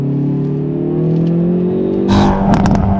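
Hyundai i30N engine revving steadily under load with rising tone, then sharp crackling exhaust pops and bangs bursting out near the end, loud and close, with no talking.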